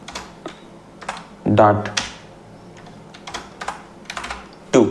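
Keys clatter on a computer keyboard as code is typed into VS Code for a JavaScript GSAP cursor-follower animation, soft irregular clicks running under a man's nearby speech.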